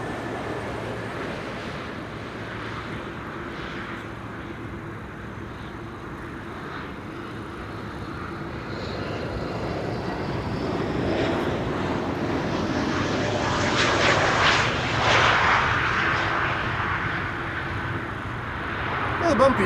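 An airliner on flight 3624 from Athens lands at Amsterdam Schiphol. A low engine rumble builds gradually and grows louder toward the end, with quiet talk over parts of it.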